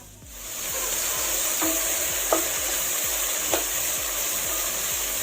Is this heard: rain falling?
no